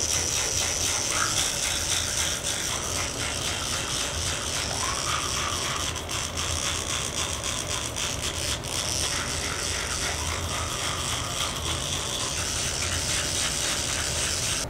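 Oral-B electric toothbrush buzzing steadily while brushing teeth, a close, continuous rattling whir with dense high-pitched texture running the whole time and no talking.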